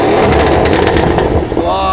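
Tuned Mercedes C63s with a stage 2 plus engine revving hard in sport plus mode, a loud, continuous roar dominating the clip with brief crackles as the revs settle.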